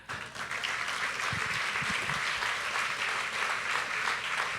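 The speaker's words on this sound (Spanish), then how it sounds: "Denle un aplauso al Señor." A church congregation applauds during a sermon, a full, steady burst of clapping that swells quickly at the start and holds loud to the end, with a faint voice briefly underneath.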